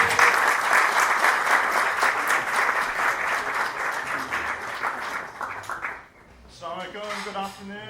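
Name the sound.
audience applause for keynote speaker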